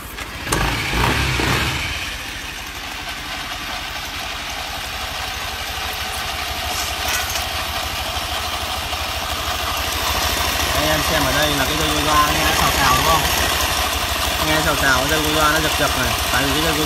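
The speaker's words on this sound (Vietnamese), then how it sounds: "Rồi anh em xem video mình sẽ nổ máy nhá." Automatic scooter engine starting with a brief loud burst after clutch cleaning and reassembly, then settling into a steady close idle that runs on, with someone talking over it.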